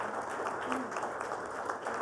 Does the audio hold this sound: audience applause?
yes